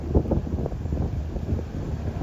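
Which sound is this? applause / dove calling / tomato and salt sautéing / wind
wind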